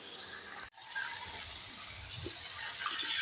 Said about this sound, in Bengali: আমি পরিমাণ মতো জল দিয়ে দিলাম